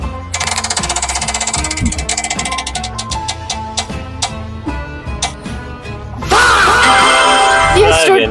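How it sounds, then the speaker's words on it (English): A prize wheel spins with rapid clicking that gradually slows into sparse, separate ticks over music, then a loud burst of bright sound as it stops. "Time to spin the wheel for my budget."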